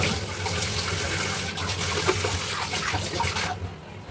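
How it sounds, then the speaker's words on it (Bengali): Dishes are washed under a running tap, with a steady splashing gush of water and light clatter, close and fairly loud, easing off near the end. "তো এইগুলো ধুয়ে নিই"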